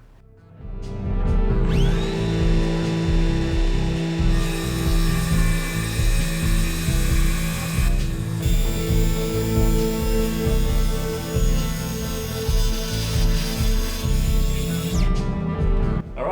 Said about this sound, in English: the first plunge to get my 0 clearance gap through the plywood